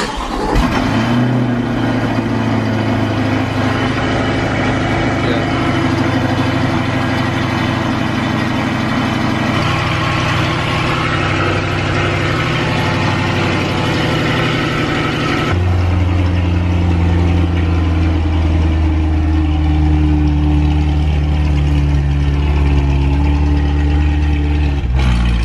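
A 2020–2021 Chevrolet Corvette C8 fitted with long tube headers and catless exhaust idles loud and deep, a constant heavy drone with a shift in pitch partway through, close and with no talk.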